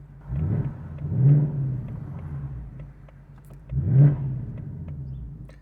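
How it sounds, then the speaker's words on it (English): A 2024 Mustang Dark Horse V8 with a resonator delete, in track mode, revs twice with deep throaty bursts, rising and falling, the exhaust rumbling low between pulls. "this track mode sounds amazing."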